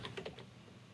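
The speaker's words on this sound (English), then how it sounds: "let's type in this exact value." Quick computer keyboard typing, a short burst of several crisp key clicks in the first half, close and fairly quiet, then a low hum of room noise with no talking.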